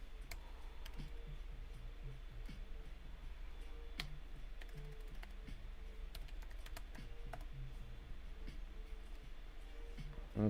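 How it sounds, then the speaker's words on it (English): Keys on a computer keyboard being pressed during a motherboard repair, quiet scattered clicks and taps in an uneven rhythm over a low steady hum, with no talking. "Press the keyboard."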